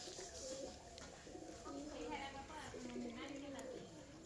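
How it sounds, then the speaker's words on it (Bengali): Pigeons in a rooftop pigeon house cooing softly, with low, rounded repeated coos over a quiet, steady background hiss. "এই যে কবুতর।"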